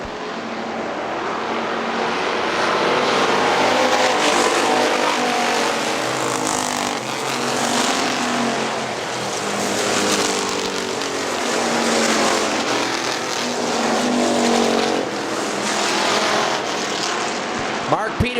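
Factory stock race cars racing at Hartford Speedway, a steady loud roar of several engines droning past continuously, with an announcer's voice under the noise.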